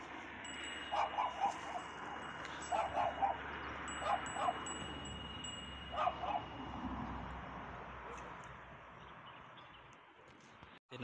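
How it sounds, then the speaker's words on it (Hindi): At a rural dera in Chattroh, Dadyal, Azad Kashmir, a kept dog barks in short repeated bursts of two or three, moderately close, over steady outdoor background noise. "ये इन्ना जनाब कुत्ता रखिया वा"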